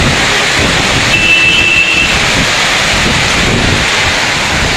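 Wind and rain roar steadily through a hail storm in Darjeeling, a dense broadband wash that stays loud and unbroken from start to finish with no voices.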